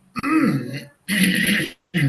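Three short bursts of throat clearing or coughing, close by and fairly loud, separated by brief pauses.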